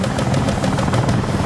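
Helicopter in Battlefield 6 during a Conquest match on Mirak Valley, a loud, close rotor thump pulsing rapidly and steadily over engine roar.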